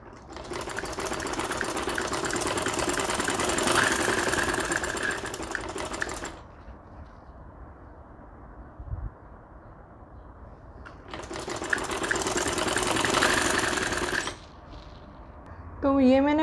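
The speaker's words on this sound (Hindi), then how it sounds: "तो ये मैंने पूरी डोरी पाइपिंग की स्टिचिंग कर ली है।" Sewing machine stitching corded dori piping onto a kameez, two long runs of fast steady whirring stitches separated by a quieter pause, close and loud.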